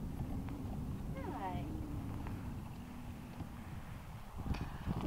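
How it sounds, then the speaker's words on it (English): A baby horse moves about outdoors, its hooves giving soft clip-clops under wind noise, with a brief whinny-like call early on and people chatting nearby. "The little horse there, little baby."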